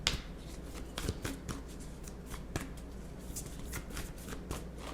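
A tarot deck being shuffled up close, a quiet run of soft riffling card flicks and taps, with no voices.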